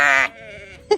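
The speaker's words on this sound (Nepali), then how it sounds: "ल कति मोटो भेडा रहेछ त बाबा।" Sheep bleat on a sheep farm in Tasmania: one long, loud, wavering bleat up close, then a quieter stretch and the start of a second sharp bleat at the end.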